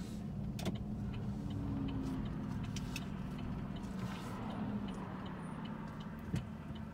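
A car driving along Arizona Highway 68 between Golden Valley and Union Pass with a 55 mph limit, a steady low engine and road drone heard from inside the cabin, fairly quiet, with one small knock near the end.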